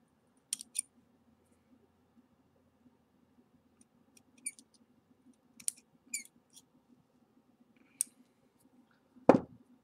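Small scissors snipping excess cotton wick on an RDA coil build for a vape atomizer, a few faint crisp clicks and snips spread over several seconds with one louder snap near the end, close against a low background hum.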